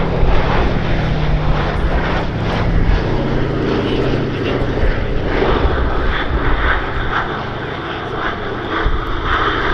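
The B-17 bomber "Sally B" flies at the Duxford summer air show, its piston engines and propellers giving a loud, rough, continuous roar that stays close and dense, with a voice talking faintly underneath.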